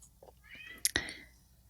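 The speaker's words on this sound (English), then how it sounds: "It's my cat, if you can't hear. He's behind the door and he's trying to get my attention." A house cat meows behind a closed door, trying to get attention: a couple of soft, muffled calls and then one sharper, louder meow near the end, faint against a quiet room.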